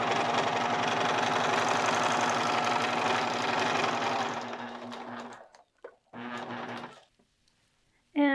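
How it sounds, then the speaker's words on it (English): A serger stitches a blouse sleeve seam, running loud and fast with a steady whirring hum for about five seconds, then slowing and stopping, followed by a second short burst of stitching. "You don't want to catch anything while you're serging"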